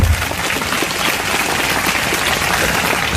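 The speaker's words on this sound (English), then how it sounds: "First you clap and then I'll be telling." An audience at a motivational speech claps loudly and continuously, producing a dense, rain-like roar of many hands close to the microphone with no voices over it.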